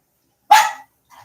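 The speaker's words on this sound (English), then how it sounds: "Bark." A dog gives one loud, close bark, followed a moment later by a faint short yip in otherwise silent surroundings.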